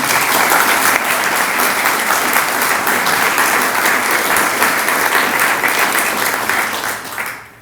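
Sustained applause from an indoor audience at a community presentation for a homeless coalition, dense steady clapping throughout that fades out at the end, with no talking over it.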